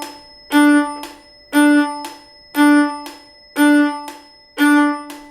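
A metronome bell dings five times at an even, steady pulse, each bright ring decaying before the next, clear and alone, setting the beat for violin rhythm practice.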